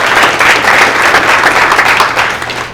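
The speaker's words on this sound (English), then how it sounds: "Let's give a hand for things happening in Roslyn." Audience applause at a Main Street Alliance community meeting, a steady dense wash of many hands clapping, loud and sustained, tapering slightly at the end.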